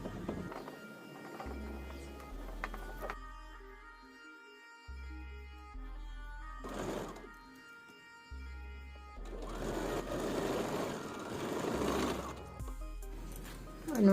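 A sewing machine stitches a baby frock sized for a two-to-four-year-old in several separate whirring bursts of varying length, with a person talking between and over the runs.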